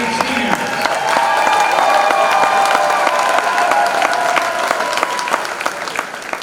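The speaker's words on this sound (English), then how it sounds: "Let's give one big final applause to all of our All-State seniors." Crowd applause at a boys varsity high school basketball game honouring All-State seniors, sustained dense clapping with some cheering from the stands, fairly loud and continuous before tapering slightly.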